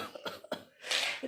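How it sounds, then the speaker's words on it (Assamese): An elderly woman coughs in a few short, rough bursts, close and fairly quiet, ending in a breathy, wheezing exhale. "কাহটো ভাল নোহোৱা হৈছে আৰু"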